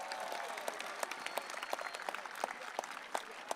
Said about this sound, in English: Can we have a round of applause for the top 15 class of